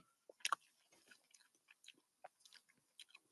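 Someone chews a grilled burger at a backyard cookout, producing close, quiet wet bites and crunches in an uneven rhythm with short pauses between them.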